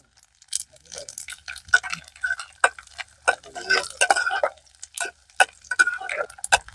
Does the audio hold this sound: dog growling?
no